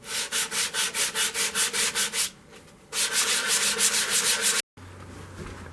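Green poplar natural-edge bowl being sanded on a lathe up to 320 grit, a loud rhythmic rasping in quick regular strokes, then a brief lull and a longer continuous sanding pass before cutting off.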